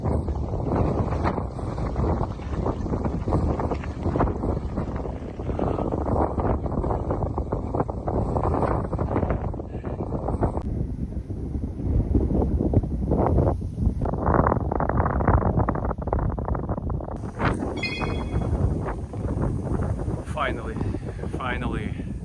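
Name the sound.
strong headwind noise while cycling on gravel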